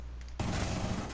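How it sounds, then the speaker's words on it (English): Gunfire in the video game Rainbow Six Siege erupts suddenly after a quiet moment, a dense burst of rapid shots that stays loud through the brief moment. "We got somebody shooting some shit."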